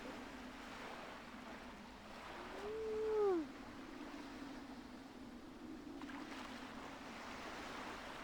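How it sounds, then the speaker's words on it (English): Gentle waves lap and wind blows softly along a quiet seaside coast in Okami HD, a steady low wash that continues throughout, with a brief rising tonal cry near the middle. "Listen to the waves lap. The wind gently blow."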